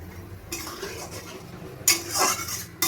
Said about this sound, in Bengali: এবার আমি ভালোভাবে নাড়িয়ে নেব।